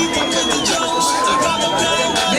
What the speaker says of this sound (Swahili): Makofi kwa Waziri Beatrice.